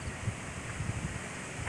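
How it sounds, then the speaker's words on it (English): Wind blowing through a late-summer organic vegetable garden with okra and pepper plants: a faint, steady rushing gust with soft rustling and low buffeting against the microphone. "Nice windy day today."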